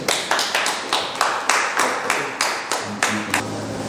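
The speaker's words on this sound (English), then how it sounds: "You all give them a round of applause." A podcast audience claps for guests joining a live radio panel, a loose series of about a dozen sharp, evenly spaced claps, close and fairly loud, with faint murmuring underneath.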